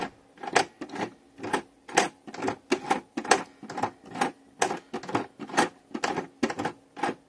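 Hand-turned stitching on a sewing machine driven by its handwheel: about a dozen evenly spaced mechanical clacks in a steady rhythm, close and clear, with no talking.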